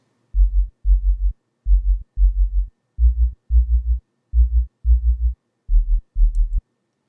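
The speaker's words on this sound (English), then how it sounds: "a sine wave pitched down 12 semitones" Synthesized sub bass from a sine wave pitched down 12 semitones pulses in a steady rhythm of short, deep, throbbing notes grouped in pairs and separated by silence, clean and loud with nothing else around it.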